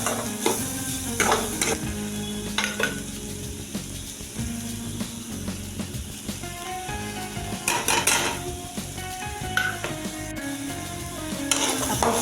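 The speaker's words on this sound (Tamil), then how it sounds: "அப்பப்போ நம்ம நல்லா வதக்கிக்கலாம், அடி பிடிக்காமல் இருக்கிறதுக்கு." Bitter gourd sautéed and stirred in a pan for a Tamil-style fry, with steady sizzling, scraping of a spoon against the pan, and metallic clinks recurring throughout at close range, with no talking.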